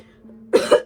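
A single deliberate cough, a short sharp double burst, close and loud after a brief quiet moment.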